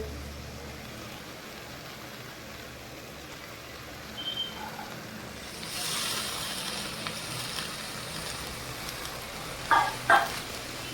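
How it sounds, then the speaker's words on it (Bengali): Cabbage and soybean chunks frying in a pan for a vegetarian cabbage curry, a faint steady sizzle that swells partway through, with a couple of brief clinks of stirring near the end. "কষিয়ে নেবো বাঁধাকপি দিয়ে"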